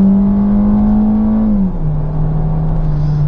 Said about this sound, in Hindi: अब मैंने ये एक्सेलरेशन दी है और साथ ही गाड़ी डाउन शिफ्ट की है, तो वेरी क्रिस्प डाउन शिफ्ट